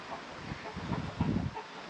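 An old free-range rooster on a flooded rural ranch clucks in soft, irregular low bursts, fairly close, over a background of steady outdoor noise.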